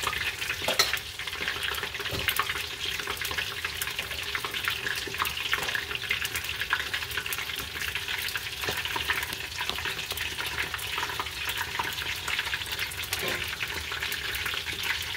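Shrimp tempura battered with three ingredients sizzles and crackles steadily in hot oil, a dense continuous frying hiss with small popping bursts, close and fairly loud throughout with no talking.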